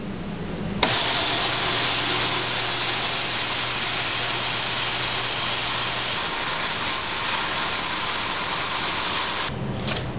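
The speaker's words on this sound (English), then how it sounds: "a belt sander helps clean up the board and smooth it out" A belt sander smooths a wooden board for a foosball practice plate, giving a loud, steady broadband whir that starts abruptly and runs unbroken for about nine seconds before cutting off near the end.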